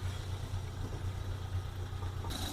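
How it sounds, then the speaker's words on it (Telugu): A 2014 Maruti Omni petrol engine idles steadily with a low, even hum throughout, with no voices over it. "ఇంజన్ బీటింగ్ కూడా చూడండి"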